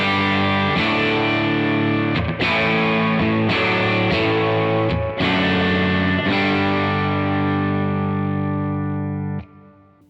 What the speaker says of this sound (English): so that's the tremolo going into the reverb circuit